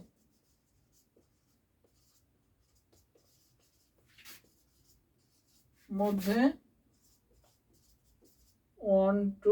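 A pen scratches softly on paper in a quiet room, with faint, sparse strokes. A voice then speaks in two short bursts over it.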